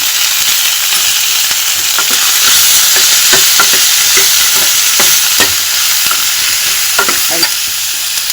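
Dried chilies frying in a pan with salt and turmeric, giving a strong steady sizzle broken by rhythmic spoon stirring and scraping, close and loud, with no voices.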